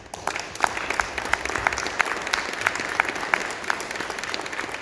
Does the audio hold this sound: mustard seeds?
no